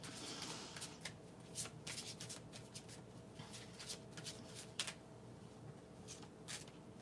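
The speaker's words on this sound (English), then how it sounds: "I'm going to start by shuffling these cards" A deck of playing cards is shuffled repeatedly up close, a series of quick riffling bursts and soft snaps at an irregular rhythm, with no voices.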